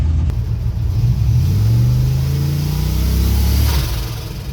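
A turbocharged LS V8 in a 1974 Chevrolet C10 pickup revs up into a deep, loud roar, holds for a couple of seconds with a throaty rumble, then eases back down.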